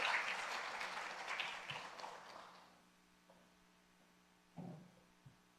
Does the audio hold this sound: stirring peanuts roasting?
no